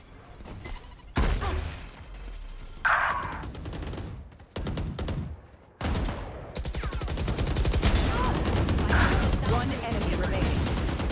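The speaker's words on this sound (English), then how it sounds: "Swarm grenade out." Swarm grenade going off in Valorant during a 1v3 Operator clutch, with bursts of rapid popping explosions and gunfire-like blasts in several loud clusters, building into dense continuous crackling toward the end.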